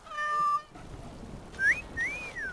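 A cat meows in the game Dragon Age: Origins Awakening, one long steady meow followed a second later by two shorter rising calls, close and clear over a soft ambient background.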